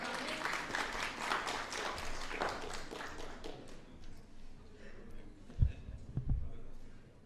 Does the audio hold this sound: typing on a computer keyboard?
no